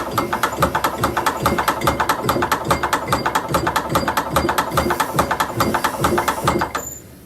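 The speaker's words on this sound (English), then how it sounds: "you want to turn the handle fairly hard or fairly briskly as it feeds the leather through the machine" A hand-cranked belt hole punch machine feeds a leather strap through with a steady, rapid mechanical clatter, the gears and ratchet ticking evenly and briskly in a close, continuous rhythm that stops abruptly at the end.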